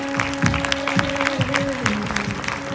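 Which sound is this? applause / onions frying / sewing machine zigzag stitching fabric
applause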